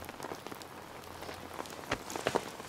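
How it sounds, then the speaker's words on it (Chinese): Steady rain falls in a drama scene, a dense hiss of drops pattering on surfaces with a few sharper splashes standing out, and no voices. "下雨不知道打伞"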